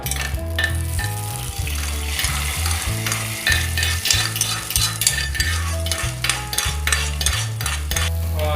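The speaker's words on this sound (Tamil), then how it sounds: "தாளிச்சதை நம்ம குழம்புல ஊற்ற போகிறோம்" Hot tempering crackles and sizzles as it is poured into chicken curry, a loud, dense frying hiss with stirring and clinking of a metal pan that keeps pulsing steadily throughout.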